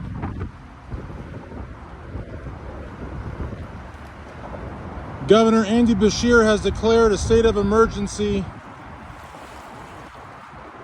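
Strong wind rumbles and buffets the microphone at the flooded Port of Louisville on the Ohio River, near the Belle of Louisville riverboat, a steady low roar under a person speaking for several seconds midway.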